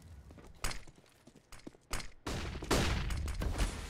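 Several grenade blasts burst in a Counter-Strike match on the Vertigo map, sharp broadband bangs at irregular intervals with a heavier, sustained rumble toward the end, loud and close with no talk.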